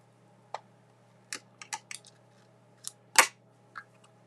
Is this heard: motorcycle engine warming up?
no